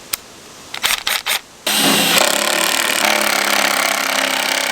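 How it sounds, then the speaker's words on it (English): A Gold Rat off-grid jaw crusher processing gold reef rock, opening with a few sharp knocks and clanks, then a loud, steady mechanical roar of rock being crushed, close by and with no one talking. "we are using the Gold Rat off-grid jaw crusher to process our piece of Dad's Reef"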